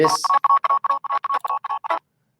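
Rapid series of short electronic phone tones, about a dozen evenly spaced beeps like keypad dialing, coming through a computer speaker, fairly loud and alone, ending abruptly after two seconds.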